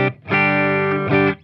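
A dry electric guitar tone without reverb rings out through a Marshall or Hiwatt-style amp with distortion: a short picked note, then a sustained chord and a second strum, close and loud with no room echo.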